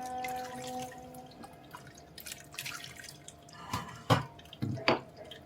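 Washed lentils being strained by hand in a kitchen, water dripping and trickling into a pot, with a few sharper splashes near the end; close and fairly quiet.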